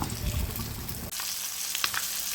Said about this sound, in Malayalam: പിന്നെ 2 മാന്തൾ ഫ്രൈ ചെയ്തെടുക്കുക